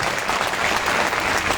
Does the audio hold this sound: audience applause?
yes